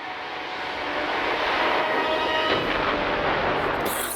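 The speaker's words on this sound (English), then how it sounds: "Huge explosion." A huge explosion in a Pokémon movie scene, a loud sustained roaring blast with broad rumbling noise that swells and holds for several seconds before fading, with no talking.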